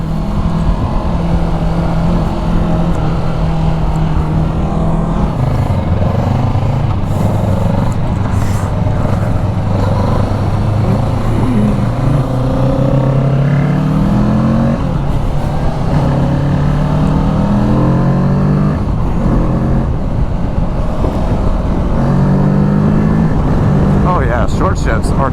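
A Kawasaki Ninja 650 sport motorcycle engine revving hard and climbing through gears, pitch rising then dropping at each quick shift, loud and continuous from close up.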